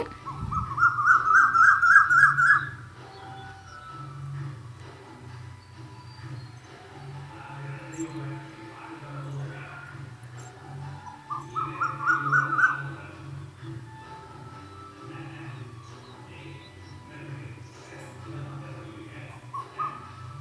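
An Asian koel calls from a tree at dawn, two bursts of rising, repeated whistled notes a little way off, separated by a long stretch of quiet ambient insect hum.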